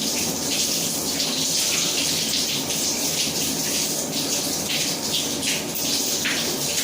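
Tap running cold water in a sink for rinsing off after a wet shave with a Gillette Mach 3 razor; a steady, close, continuous gushing splash with no talking.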